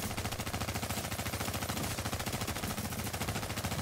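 Rapid automatic gunfire in a squad-based shooter video game: a fast, even stream of shots runs loudly and without pause the whole time.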